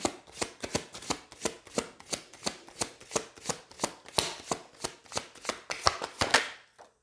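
Tarot cards are shuffled and flipped in a steady run of about twenty crisp, close riffling slaps, evenly spaced and alone with no talking.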